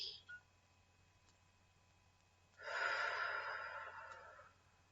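A slow, audible exhale blown out during a sophrology relaxation session, a soft airy breath of about two seconds following a brief quiet sound, otherwise near silence.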